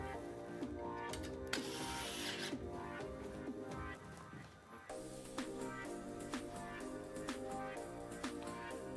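Screws are driven into a Phanteks G500a PC case during a build, giving close, quiet ratcheting clicks and small metallic turns in short irregular bursts.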